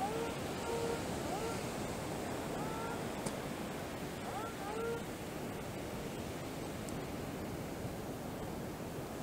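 Steady broadband wash of surf rolling onto a beach during metal detecting, a continuous loud roar filling the background with faint bird-like chirps and a little distant talk.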